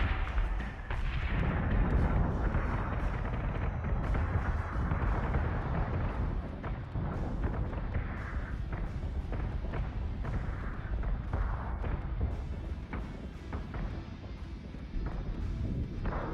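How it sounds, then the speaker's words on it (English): Flak guns from the Battlestar Galactica: Deadlock video game keep up a continuous barrage of heavy, rumbling booms that blend into a dense, unbroken roar for the whole stretch. "Our flak fields can really take out silent missiles and fighters without a problem"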